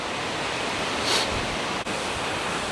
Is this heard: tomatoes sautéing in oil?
no